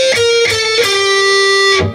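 Electric guitar melody of sustained single notes with no vibrato, each note held steady and flat, a few notes in sequence with a long final tone, played alone and loud.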